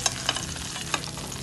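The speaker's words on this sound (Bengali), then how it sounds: "সব মাছ ভাজা হয়ে গিয়েছে, এখন আমি এগুলোকে তুলে ফেলবো।" Koi fish frying in hot oil in a pan, a steady close sizzle with a few quick scraping taps of a spatula.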